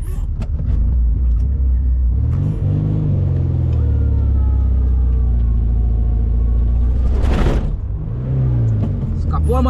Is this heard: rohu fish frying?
no